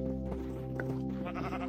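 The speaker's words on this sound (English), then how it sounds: "We finally have all color sheep." Sheep bleating in Minecraft, a few overlapping bleats from several colored sheep in a pen, steady and close over a constant low game hum.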